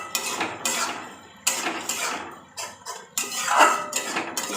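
Spices for an egg curry are sautéed and stirred in a pan, with repeated scraping, clattering strokes in uneven bursts, close and fairly loud with no talk.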